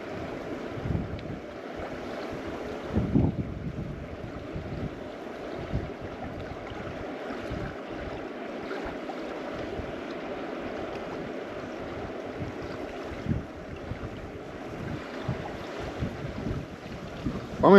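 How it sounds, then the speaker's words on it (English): Wind gusting over the Deschutes River, a steady low rushing buffet on the microphone with occasional stronger gusts, moderate in level and with no voices. "here comes that wind"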